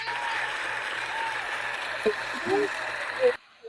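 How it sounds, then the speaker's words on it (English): A small crowd at a Free Comic Book Day event in a comic shop applauds a volunteer called on stage, a continuous patter of clapping that cuts off abruptly near the end, with a few voices mixed in. "Give him a round of applause!"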